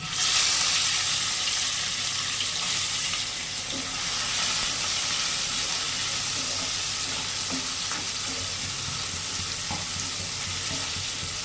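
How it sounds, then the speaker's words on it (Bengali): Prawns coated in salt and turmeric sizzle steadily in hot oil left from frying potatoes, a loud, continuous crackle that fills the whole stretch with no talking. "চিংড়ি মাছের নুন হলুদ মাখিয়ে নিয়েছি ভেজে নিচ্ছি"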